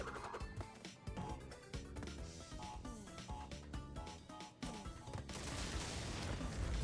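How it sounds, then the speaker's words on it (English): TNT crates detonating in Crash Bandicoot 3: Warped, a rapid burst of sharp blasts and crashes over game music, fairly faint overall, followed by a louder, sustained noisy rumble. "I have to detonate them with the TNT."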